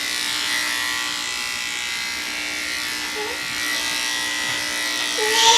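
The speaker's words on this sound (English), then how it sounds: "I cannot believe how much I'm using these corded clippers" Corded dog grooming clippers buzz in a continuous close drone during a grooming session, with a voice speaking over the hum at times.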